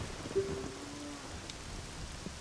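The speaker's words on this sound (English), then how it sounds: "It's pouring down rain." Steady rain pours down in the video game The Legend of Zelda: Ocarina of Time, a continuous soft hiss of falling drops with a faint low tone underneath, no voices.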